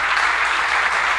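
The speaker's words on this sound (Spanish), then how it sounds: "Démosle un aplauso al Señor." A church congregation applauds to welcome newcomers, a steady wash of many clapping hands that fills the room evenly for its whole short length.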